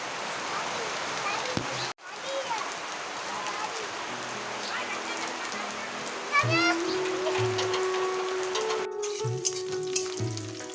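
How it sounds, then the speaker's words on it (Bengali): Cabbage and potatoes fry in a pan with a steady sizzle, joined by the patter of rain on a monsoon day, while people talk and a voice is heard over it. "এখানে রান্না করছি এখন বাঁধাকপি, বাঁধাকপি আর আলু ভাজা করব।"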